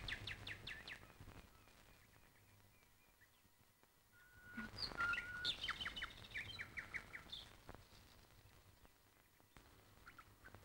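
Outdoor birds call and chirp in scattered bursts, a few sharp calls early, then a busier, louder flurry of chirps midway before thinning out again.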